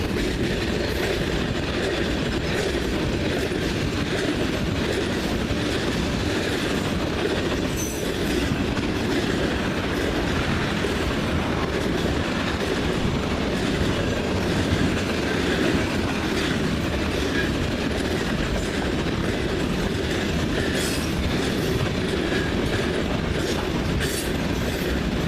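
A CN freight train rolls past at Ladysmith with a steady, continuous rumble and rhythmic clickety-clack of wheels on rail joints, with faint squeals from the wheels throughout.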